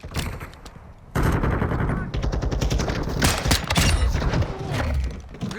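Magazine change on a CMMG Banshee rifle in Call of Duty Modern Warfare II, a run of sharp metallic clicks and clacks that starts quiet and then jumps louder, with rapid rattling handling noise and gunfire-like bursts.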